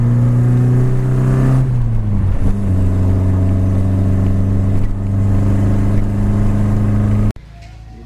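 A 1973 Datsun 510 Bluebird SSS 1800 engine runs loud and steady while driving, its pitch dropping as it shifts, then cutting off abruptly near the end.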